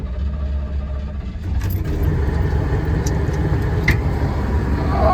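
A 1978 GMC crew cab truck engine with engine issues idles steadily close by, a low continuous rumble with a few light metallic clinks rising over it.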